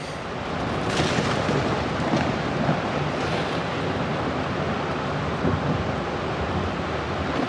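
A storm in the video game The Invincible rolls as one loud, continuous roar of thunder and rushing wind, dense and unbroken throughout.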